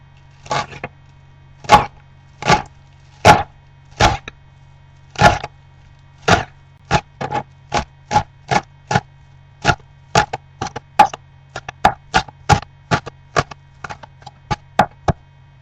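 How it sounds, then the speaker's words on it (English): Knife blade striking a cutting board while chopping vegetables for Asian chicken lettuce wraps, a series of crisp, close chops, sparse at first then settling into a quicker, steady rhythm, with no talking. "Okay, got all that chopped up."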